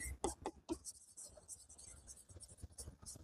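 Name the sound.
writing by hand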